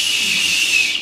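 A whistle made from a traditional Turkish confectionery sweet gives a steady, loud, high-pitched tone for about a second, with no talking over it.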